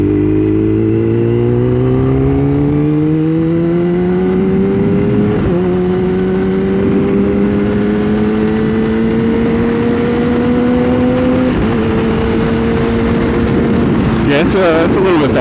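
A motorcycle engine revs at about 30% throttle in low power mode, rising smoothly in pitch through two clean shifts. It is loud and close and runs continuously, with a burst of clattery noise at the end.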